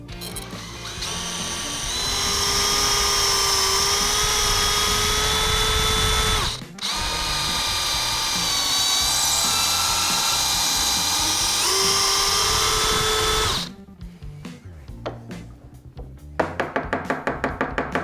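A drill bores into a wooden file handle, its bit marked with a tape depth stop, a loud sustained whine running for long stretches with one brief stop, then trailing into rattling clicks and knocks.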